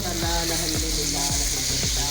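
Semolina cooks in melted sugar in a pan for makhandi halwa, a loud close sizzle overlaid with regular spoon strokes scraping and stirring roughly every half second.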